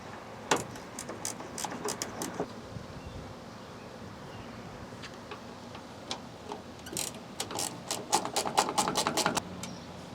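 A ratchet removes 8mm bolts from a 2012 Ford F150 tail light assembly, making quiet rapid clicking bursts, one early and a longer run near the end, over faint outdoor background noise.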